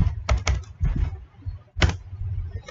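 Keys tapped on a computer keyboard while entering a subtract command in modelling software: a few quick close clicks in small clusters, then a single firmer keystroke after a short pause.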